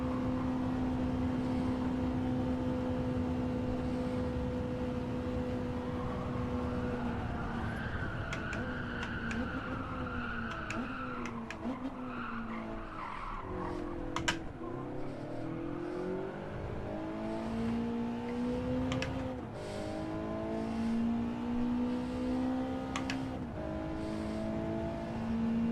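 A car engine in Gran Turismo 7 holds a steady drone, then revs up and down through gears with rising and falling pitch sweeps, loud and continuous with a brief clunk midway.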